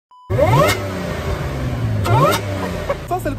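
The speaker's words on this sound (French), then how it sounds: "Ça c'est le compresseur les amis." A supercharged Audi S5 revs with its exhaust valve open, loud and close, the engine note sweeping sharply upward in two strong bursts with a brief third blip at the end, no talk over it.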